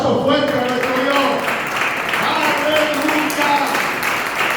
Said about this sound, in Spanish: Den un aplauso fuerte a nuestro Dios.